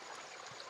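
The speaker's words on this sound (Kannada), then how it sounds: "ನೋಡಿ ಬಂಡೆ ಕೆಳಗಡೆಯಿಂದ ಬರ್ತಾ ಇದೆ ನೀರು" Water streams steadily from under a rock at a waterfall, a soft, faint, continuous trickle and rush with no voices.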